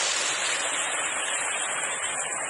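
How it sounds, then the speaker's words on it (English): A garden water feature out front splashes like a real waterfall, a loud continuous rushing hiss of falling water, steady and close, with no voices. "his setting out front with a water feature that actually sounds like a real waterfall"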